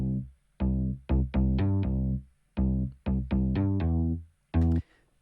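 A blended synth bass made in Logic Pro X, layering a solid 90s-style bass with a Dirty Planet patch, plays a short punchy riff of clipped and held notes separated by silences, loud and dry with no voices.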